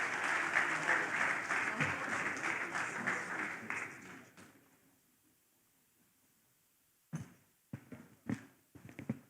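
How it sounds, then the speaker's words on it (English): Audience applause at an emerging markets forum, a steady round of clapping for about four seconds that dies away into near silence, followed by a few sharp bursts of sound and brief talk. "Please, another round of applause for Dr."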